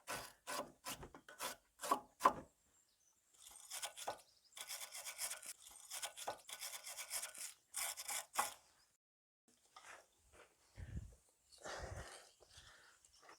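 Someone scrubs a rusty sway bar link on a car, with bursts of rough rasping strokes that come in uneven runs and pause now and then, close and moderately loud.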